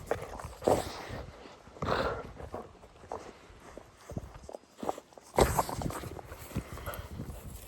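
Border collies moving about outdoors on a farm nearby, with scuffling paws, footsteps and occasional snuffling, alongside a steady breezy background.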